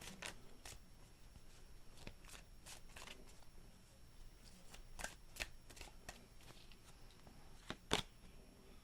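Tarot cards being shuffled close up, a quiet series of quick papery riffles and soft slaps in irregular bursts, ending with a sharper snap of the deck.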